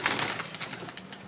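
Pigeons, a male and a female kept in a home loft, give soft low cooing calls in a short close burst, with faint rustling and no talk.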